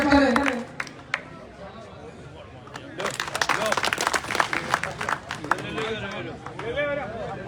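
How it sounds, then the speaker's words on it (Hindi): A live audience at an outdoor Haryanvi Ragni event gives a burst of loud, dense clapping to welcome a guest, with an announcer's voice over the crowd before and during the applause. "एक बार जोरदार तालियों से स्वागत"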